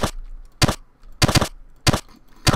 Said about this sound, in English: that guy's shooting fireballs back there